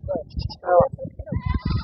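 Goat bleats ring out at a busy livestock market, a wavering cry near the middle standing out over nearby talk and crowd murmur.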